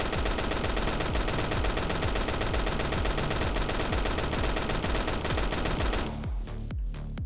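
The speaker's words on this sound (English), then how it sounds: "So I'm going to shoot now in a straight line here." Needle gun from a video game firing in a fast, steady rapid-fire stream of sharp repeated shots, loud and continuous for about six seconds, then stopping with a few trailing pops and echoes.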